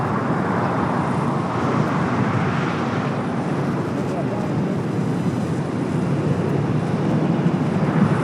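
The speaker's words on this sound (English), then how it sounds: "It's a Delta 767 400ER taking off there on the north side." A Delta Boeing 767-400ER jet roars steadily on takeoff from the north side runways at LAX, a broad continuous rumble heard from a distance with no break.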